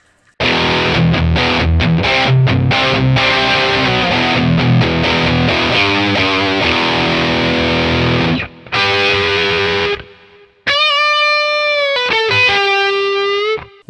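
An electric guitar played through a Mooer preamp on patch 23, the Eagle FB channel 2, rings out with loud, driven distorted chords and riffs, then ends on sustained, clearer single notes after a brief pause.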